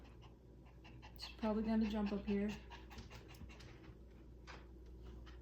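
A service dog pants audibly indoors in a short, quick burst of close breathing, while someone talks over it.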